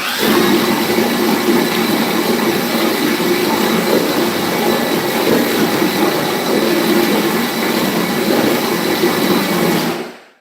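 A Flex cordless drill mixer stirring drywall mud gives a loud, close, continuous whirring churn for about ten seconds, then winds down abruptly to silence.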